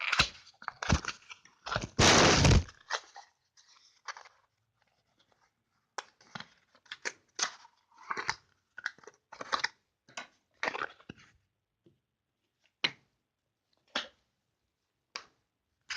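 Oracle cards being shuffled in irregular bursts of riffling and tapping, close and crisp, with a louder flurry early and sparse taps toward the end.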